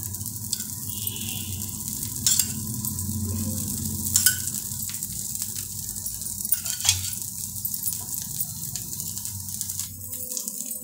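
A thin paper dosa sizzles in oil on a hot pan, a close, steady crackling hiss with a few brief louder pops and scrapes scattered through it, no talking.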